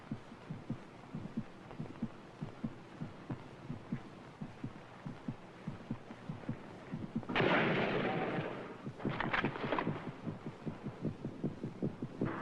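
A steady, low, thumping heartbeat pulses close and regular for the whole stretch. Midway, a burst of loud broadband noise like rotor wash or blasts briefly covers it, followed by a few sharp cracks.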